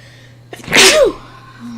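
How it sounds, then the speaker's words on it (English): A single sharp, loud human sneeze bursts out after a brief inhale, then fades back into a quiet steady hum of a cockpit or cabin on a flight into Paro. "I got a lot of sneezing."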